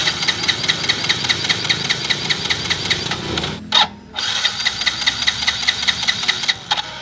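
A car engine idles during a fuel injector test, running with a steady rapid ticking knock, loud and close, briefly cut by a sharp pause before resuming the same even rhythm.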